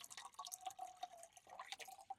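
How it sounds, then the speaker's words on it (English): Water poured into a large camp cooking pot, with a thin trickling, splashing stream and small dripping plinks that carry on fairly quietly throughout. "all I need to do is put my water in, which I'm going to do right here."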